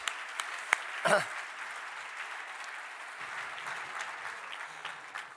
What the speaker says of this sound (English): A big round of applause again for everyone